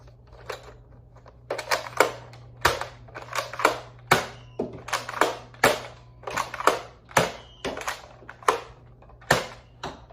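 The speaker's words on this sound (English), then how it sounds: "I'm going to end up not slam firing this one. They're just going to be single shots." A Nerf Elite Disruptor blaster fires darts one at a time, a quick series of sharp, close plastic snaps and clicks from priming and firing over a low steady hum, with no talking.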